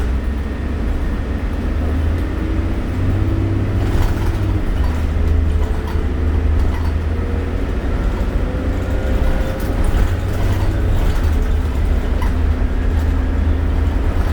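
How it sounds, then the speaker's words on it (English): Inside a 2005 New Flyer D40LF city bus in Calgary on the 12 Southwest Loop, a loud, steady engine drone and rumble fills the cabin with rattles and road noise, rising and falling as the bus moves. "This bus has a long day to go yet."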